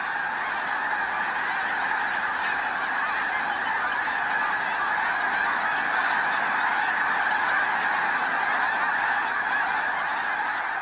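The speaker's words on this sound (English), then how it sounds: "With a fair wind blowing, the snow geese take their cue to leave." A dense, constant chorus of honking snow geese, a large flock calling continuously at an even level throughout.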